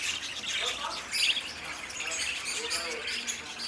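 Many birds, some imported from Iran and Belgium and kept together in a bird enclosure, chirp and squawk in a busy overlapping chorus, with one sharper call standing out midway.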